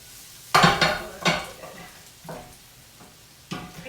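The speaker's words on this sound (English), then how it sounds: "a little bit more stirring" A spoon scrapes and stirs mushroom risotto in a pan, giving four or five separate swishing strokes with soft sizzling between them, close and moderately loud, with no talking.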